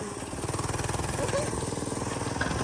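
A small gas-powered mini bike engine runs close by, a steady rapid putter with an evenly pulsing throb, loud and continuous.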